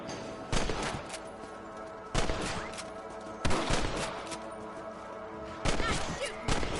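Four loud gunshots ring out at irregular intervals while hunting rabbits in Red Dead Redemption, each a sharp broadband crack with a short decaying tail over steady background ambience.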